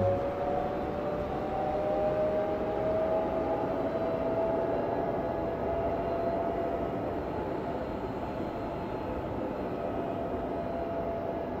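An ICE high-speed train passes in Train Simulator Classic on the S25 line through Berlin, a steady broad rushing roar with a faint high whine across the whole stretch, no voices.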